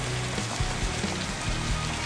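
Artificial rain pours down across a music video set, a dense, even hiss of falling water with occasional low thumps and no speech.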